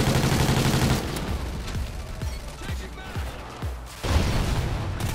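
Bursts of gunfire from a Call of Duty Ghosts match on the Nemesis map pack, a heavy volley at first, then scattered sharp single shots and another loud burst, with a voice talking over it.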